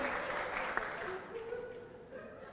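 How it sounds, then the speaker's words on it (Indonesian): Audience applause fills a hall during a Maluku tourism forum, a steady wash of clapping, moderately loud and continuous, thinning slightly toward the end. "Tepuk tangan dulu."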